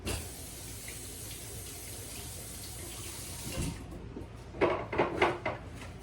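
Tap water runs steadily into a sink while sweet potatoes are washed, a continuous close rush with a few louder splashes and knocks near the end; no talking.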